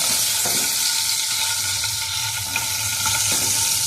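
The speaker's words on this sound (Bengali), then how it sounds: "এবার আমি তেলের মধ্যে কালো জিরো আর লঙ্কা ফোড়ন দিয়ে দেবো" Nigella seeds and whole dried chillies hit hot oil for a tempering before pabda fish curry, producing a loud, dense, close sizzle with a few faint stirring clicks.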